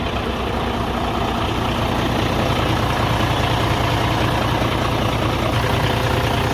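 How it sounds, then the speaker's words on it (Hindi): An overhauled diesel engine runs at a steady idle, a dense, continuous low rumble heard up close and fairly loud, with no break and no voices. "तो स्टार्ट है इंजन।"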